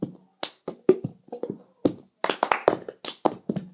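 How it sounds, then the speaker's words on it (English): Cups and hands tap out the cup song rhythm on a surface, with sharp claps, taps and cup knocks falling in a quick repeating pattern. The playing is close and clear, with no voices. "we're going to be doing the cup song"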